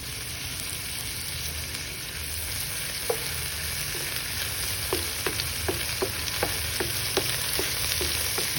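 Eggplant sautéing in a pan with shrimp paste and tofu gives a steady close sizzle, with light clicks and scrapes of stirring scattered through the second half; no one speaks.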